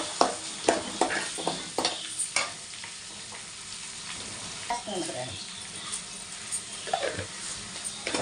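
Mustard seeds, curry leaves and onions fry in hot tempering oil, crackling and sizzling close up with repeated sharp pops and stirring scrapes over several seconds.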